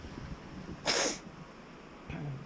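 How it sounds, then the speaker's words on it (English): A sharp, close sniff or nasal snort, followed a moment later by a shorter breathy snuffle, with quiet background otherwise. "Sorry for all the sniffling."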